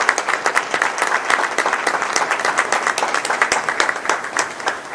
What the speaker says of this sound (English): please join me in giving them a round of applause for their interest